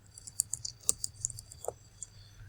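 Typing on a computer keyboard: a short, close burst of light key clicks, sparse and uneven, then a couple of isolated taps near the end, over a quiet room.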